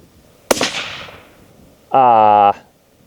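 One sharp, loud rifle shot from a 6.5 Grendel Howa Mini firing a 90gr Hornady CX load cracks out and rings away. About a second later a short, steady electronic beep follows.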